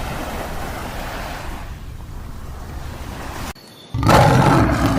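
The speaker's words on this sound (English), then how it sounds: "Lion." A lion's deep roar rumbles continuously like a broad wash of sound, dips briefly, then surges back louder near the end, with no voices present.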